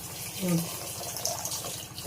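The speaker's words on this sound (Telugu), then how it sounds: "ఒక హాఫ్ గ్లాస్ నీళ్ళు పోసుకోవాలి." Half a glass of water poured while making kaju katli, a short trickling splash under a faint voice in a kitchen setting.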